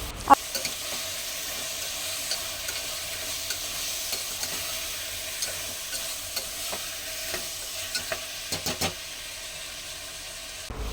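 Salted vegetables sizzle steadily in a pan, a continuous close hiss broken by scattered light clicks and taps of stirring.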